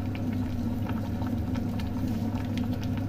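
A pot of water at a rolling boil for tom yum soup, a steady close bubbling and hiss that runs throughout with no voices.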